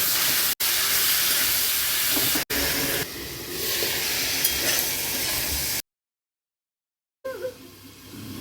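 Eggplant pieces sizzle in hot oil in a pan with potatoes, salt, turmeric, nigella seeds, chilli and bay leaf, a loud steady hiss with brief gaps, cutting out into silence before quieter frying returns.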